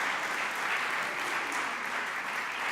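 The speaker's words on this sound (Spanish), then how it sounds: "Den un aplauso fuerte al Señor." A church congregation applauds in praise, a dense, steady wash of many hands clapping together, even and sustained throughout without any voice on top.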